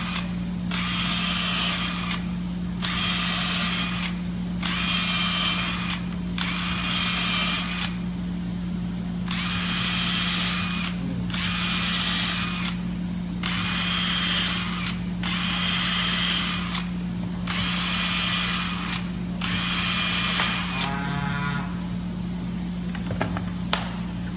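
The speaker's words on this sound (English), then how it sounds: "So now we can go along and we can drill all these out." A power drill drills a row of holes in about ten steady bursts, each a couple of seconds long with short pauses between, over a constant low electrical hum.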